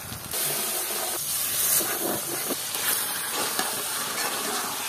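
Mutton frying and being stirred in a pan of spiced curry with onion, chilli, garlic and ginger paste, a steady close sizzle and hiss with occasional scraping stirs.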